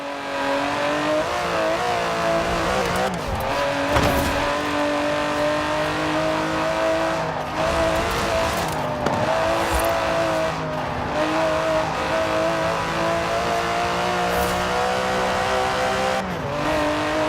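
An Aston Martin DB11 with a 5.2-litre twin-turbo V12 in Forza Horizon 4 holds a loud, steady engine drone, revving through gear changes with brief tire squeals, close and continuous, with no talking.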